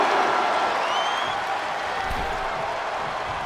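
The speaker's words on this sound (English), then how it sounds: "The sound of this crowd is deafening" A wrestling arena crowd in the WWE 2K22 video game cheers and applauds in a loud, continuous roar. The noise swells at the start and then holds steady, with no commentary heard over it.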